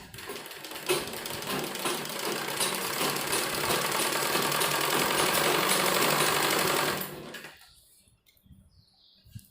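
A sewing machine stitching the seam of a bell sleeve on a garment runs in one continuous fast whirring burst for about seven seconds, close and clear, then stops, leaving quiet handling sounds.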